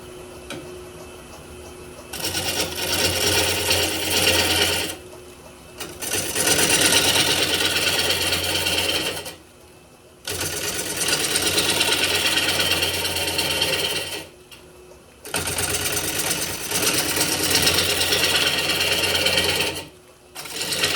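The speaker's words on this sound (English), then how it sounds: "I'll start with the 1/2-inch gouge here and see if I can round this up a little bit" A 1/2-inch gouge cuts a Norway maple wing bowl on a lathe, giving loud, rough, hissing bursts of several seconds each, separated by brief quiet pauses.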